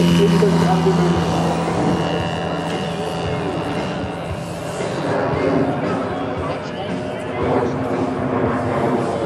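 A giant-scale Gee Bee R2 RC racer plane with a powerful engine flies at the Euroflugtag air show in Rheidt; its engine drone rises and falls at a distance beneath someone speaking German over it.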